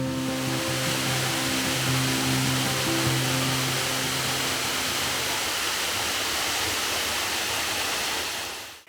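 An Oregon waterfall near Mt. Hood and the Columbia River Gorge roars as a loud, steady broadband rush of falling water, with a faint low hum at first and a fade at the end.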